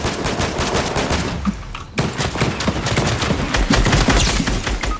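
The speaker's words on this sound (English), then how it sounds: "Where am I getting shot from?" Dense, rapid gunfire from the Fortnite video game fills the whole stretch, shots overlapping in loud bursts with a brief dip near the two-second mark before the barrage resumes.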